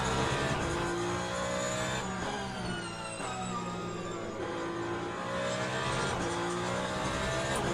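Race cars in Le Mans Ultimate roar past during a 24-hour race, with a loud continuous engine drone, shifting pitch as cars pass, and faint tire squeal throughout.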